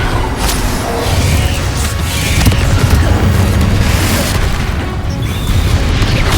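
A Confringo blasting spell erupts in Hogwarts Legacy as dense, heavy booming that rolls on without a break, loud and close, with crashing bursts stacked on each other.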